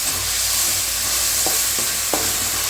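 Ground paste of coriander, green chili and tomato sautéing in a pan for egg tikka masala, a steady loud sizzle with a few soft scrapes of stirring.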